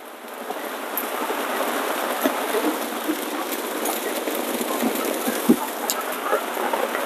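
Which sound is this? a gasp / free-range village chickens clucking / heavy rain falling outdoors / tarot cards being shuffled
heavy rain falling outdoors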